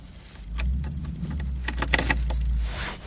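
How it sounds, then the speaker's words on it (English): A bunch of car keys jangles as a key goes into the ignition, giving a few clustered metallic rattles over a low, steady rumble inside the car, close and with no voices. "plug the ignition in"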